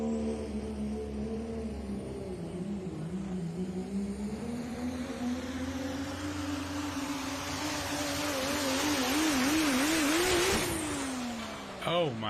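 An old school Ford pulling truck at a national tractor pulling championship roars under full throttle, its engine note climbing steadily and wavering as it strains down the track, loud and continuous before cutting off abruptly near the end.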